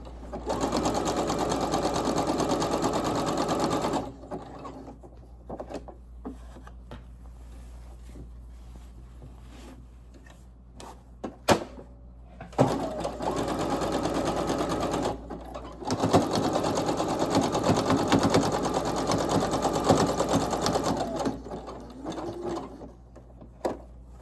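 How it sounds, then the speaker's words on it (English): Sewing machine stitching back and forth across linen, running in long steady bursts with a pause mid-way as the fabric is turned, then resuming loud and close. "I am going to stitch back and forth on each leg."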